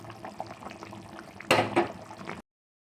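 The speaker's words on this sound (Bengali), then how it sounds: "এই যে এখন ভালো করে এটাকে তেল ছাড়া পর্যন্ত ভালো করে মশলাটাকে কষিয়ে নেব।" A spice paste of garlic, onion, tomato, chilli and cumin fries in oil with a low, steady bubbling. A louder, brief sizzle surges near the end before stopping abruptly.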